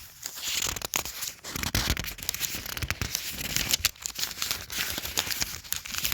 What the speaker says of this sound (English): here's how they sound with no watercolor